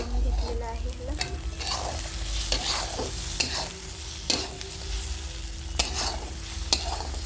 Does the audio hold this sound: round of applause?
no